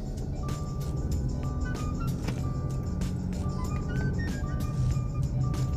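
A 2020 Subaru Crosstrek cruising through turns, its steady road and engine drone filling the cabin continuously with faint tonal whines and light rattles over the top.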